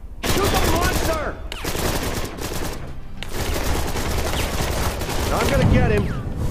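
Rapid video game gunfire blasts away at a monster in a dark sci-fi setting, with dense bursts of shots that pause briefly twice before resuming. The shooting runs under mixed game effects and an occasional voice.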